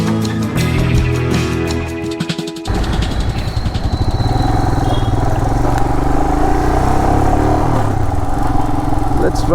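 Motorcycle engine running steadily while riding through a Bengaluru street, a continuous close drone with wind and traffic noise, after a brief louder stretch with speech at the start.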